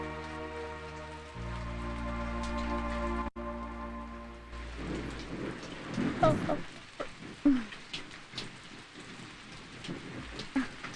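Steady rain falls on surfaces, with a low rumble of thunder beneath and scattered sharper drops and knocks, while a tonal music bed plays early on.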